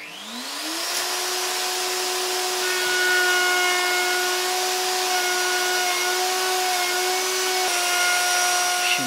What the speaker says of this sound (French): Je profite donc des muraillères pour usiner une gorge de 15 mm par 15 à la défonceuse sur tout le tour de la passerelle.